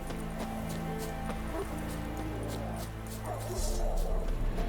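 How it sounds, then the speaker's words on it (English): Several dogs bark and yip in the video game The Witcher 3, repeated short barks over busy ambient village sound with a few thuds, moderately close, and the noise swells louder near the end. "That's a lot of dogs."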